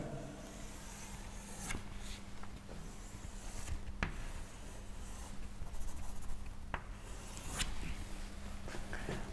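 A pen or marker scratching across a surface while sketching a sagittal anatomy diagram of the nasal cavity, making soft, close strokes with a few sharper taps, quiet and continuous, with no talking.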